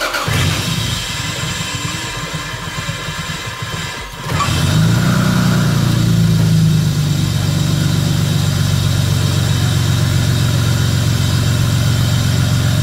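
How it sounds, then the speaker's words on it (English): A Toyota Aristo engine cranks and catches after a coolant top-up, jumping to a loud, slightly raised idle that settles into a steady, close rumble, with no talk. "I am going to start the engine and see if it'll start right"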